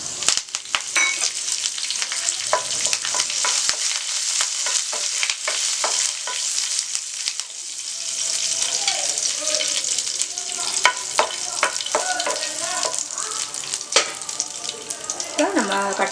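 Curry leaves crackle and sizzle in hot oil for jeera mutton, a busy, close frying hiss with spattering pops and stirring, and faint voices in the background.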